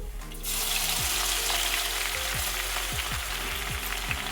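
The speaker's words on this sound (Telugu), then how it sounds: "ఇందులోకి ఆవాలు జీలకర్ర కొద్దిగా మినపప్పు శనగపప్పు ఇవి చిటపటమనాలి" Mustard seeds, cumin, urad dal and chana dal splutter and sizzle in hot oil for an amla pickle tempering, a loud steady crackling hiss that starts abruptly and continues close by without talk.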